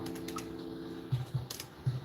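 Several separate keystrokes tapped on a computer keyboard, sparse, close and moderately loud, with short gaps between the presses and no talking.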